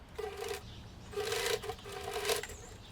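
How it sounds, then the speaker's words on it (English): A sewing machine stitches pockets onto the leg of balloon barrel (Nikka) pants within the seam allowance, running in three short, steady motor bursts with brief pauses between, close by and fairly quiet. "I'm going to sew the pockets up here to the leg in the seam allowance"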